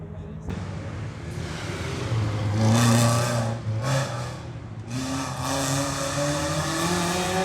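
A rally car tears through a town roundabout at Le Béthunois 2019, its engine swelling loud and revving hard before fading and returning, with tire noise and spectators talking nearby.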